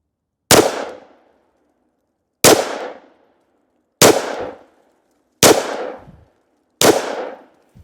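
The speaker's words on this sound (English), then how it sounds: "I'm going to try to get 5 rounds into the target." IS-1300 pistol firing five 5.7x28 rounds at a target: five loud, sharp reports, each decaying quickly, spaced roughly one and a half seconds apart, with no voices.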